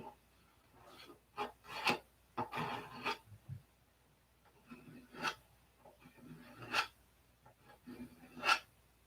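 Repeated rasping strokes of sanding on wood come in bursts with short pauses between them, close by and fairly quiet.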